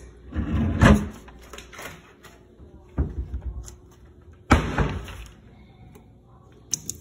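Sliding doors in a Florida home kitchen are pushed open and shut, giving a few separate rolling thuds and rattles with quiet gaps between them.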